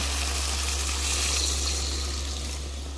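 Water pours steadily into a pan of browning chicken, a continuous broad rushing and sizzling hiss with a low hum underneath, fairly loud and unbroken.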